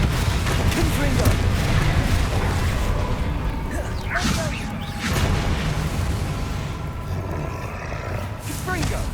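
Spell blasts from Bombarda and Confringo crash and roar through a magic duel in Hogwarts Legacy, a dense run of booming impacts and whooshes layered over continuous game noise, with a voice chanting spell names over the top.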